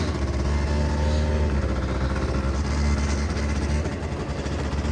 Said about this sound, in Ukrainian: як він у нас без питань заводиться